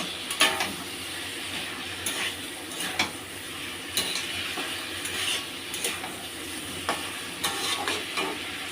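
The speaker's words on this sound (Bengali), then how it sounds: "কুমড়ো আর চিংড়ি মাছ দিয়ে এবার একটু নেড়ে নিলাম।" Pumpkin and shrimp fry in a pan while being stirred, giving a continuous sizzle with rhythmic spatula scrapes and clinks roughly once a second.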